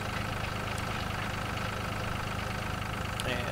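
A tractor engine in Farming Simulator 2013, pulling a cultivator across a field, drones in a steady low continuous rumble, moderately quiet and unchanging throughout.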